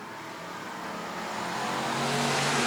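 Race cars on a track at a 2018 SmackDown event, a steady engine drone that swells louder as the cars approach, with no talk.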